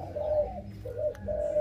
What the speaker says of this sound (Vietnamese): ở đây nhà có đến 50-60 lồng chim mồi